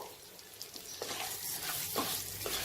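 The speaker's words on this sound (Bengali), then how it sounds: "দিয়ে চালটাকে খুব ভালো করে আমি একটু ভেজে নেব" Gobindobhog rice grains fry in hot oil in a pan, a quiet continuous sizzle broken by a few soft stirring scrapes, close and without voices.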